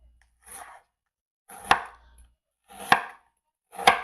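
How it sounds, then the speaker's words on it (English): A knife cutting chicken into small pieces on a board gives four separate chopping thuds spaced about a second apart, each a short crisp knock, close up and with nothing else heard. "I'm gonna cut the chicken in small pieces"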